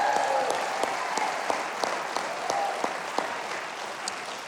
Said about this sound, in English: how about a hand of applause